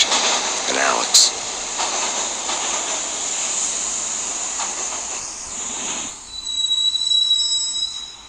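In the Max Payne video game, a train rolls along its rails with a steady rushing rumble and a high metallic wheel squeal, and it drops briefly near the end before the noise swells again.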